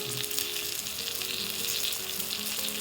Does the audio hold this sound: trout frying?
yes